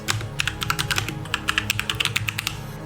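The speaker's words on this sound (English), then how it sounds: "open up a terminal, type in .NET New Podcast" Rapid clicking keystrokes on a computer keyboard while typing a command into a terminal, close and clear, in quick uneven bursts with no talk.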